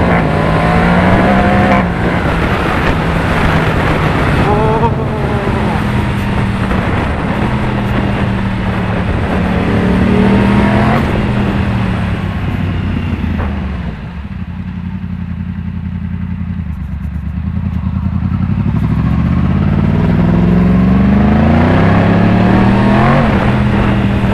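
Yamaha MT-10 motorcycle engine revving hard on a test ride, loud and close, with rising and falling pitch through gear changes, a brief dip in throttle midway, then climbing again with mechanical clatter.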